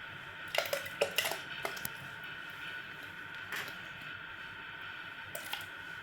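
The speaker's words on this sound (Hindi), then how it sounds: "सारी स्ट्रॉबेरी की मैंने कटिंग कर ली है। ये अब मैं डाल दूंगी इस ब्लेंडर जग में।" Soft clattering thuds as cut strawberries drop into a blender jug, a few quick knocks early then an occasional one, faint over a steady background hum.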